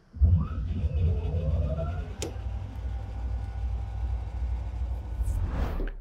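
A Porsche 911 converted to electric drive pulls away, a low steady rumble with a faint rising whine, one sharp click partway through and a rushing swell near the end, close and continuous with no talking.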